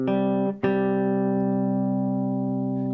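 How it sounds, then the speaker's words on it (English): Two sustained guitar tones a perfect fifth apart ring together as a smooth, steady interval, briefly re-struck partway through and left to sustain evenly. "A perfect fifth is 7 half steps, and that sounds like this."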